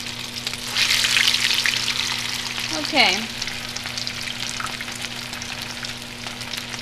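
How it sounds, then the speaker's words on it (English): Tuna cakes fry slowly in a pan, giving a steady close sizzle with a brief burst of louder crackle midway, and a voice says one short word. "let them cook on one side, flip them, and then they're going to cook on the other side."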